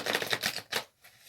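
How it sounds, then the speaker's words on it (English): A deck of tarot cards gets a brisk shuffle, a short burst of close riffling flutters that stops abruptly and leaves a faint, quiet tail, with no speech over it. "I'm going to just give it one more shuffle quick."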